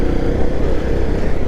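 Off-road motorcycle on Pirelli XC Mid Hard tyres riding in second gear over rutted ground, a loud, close, continuous engine drone with rough low rumble and no voices.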